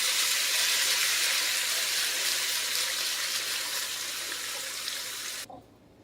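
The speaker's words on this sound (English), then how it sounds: "Now we're going to add water till it's covered, just over to the top." Water pours steadily and loudly into a pot to cover a braising chuck roast with herbs, garlic and chicken stock, a continuous rushing stream that cuts off abruptly near the end.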